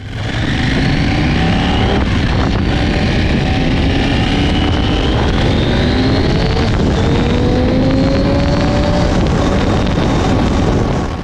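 A KTM 790 Adventure R motorcycle rides through urban traffic, its engine loud and close, with rising and falling rev tones as the bike accelerates and shifts through gears without pause.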